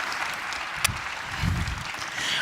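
An audience at a school winter orchestra concert claps in a short burst of applause, one sharp clap standing out near the start.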